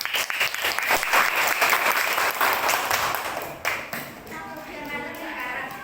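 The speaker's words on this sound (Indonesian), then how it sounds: "Beri tepuk tangan" A classroom of students claps for a group standing up, brisk dense applause that fades out toward the end as the room quiets.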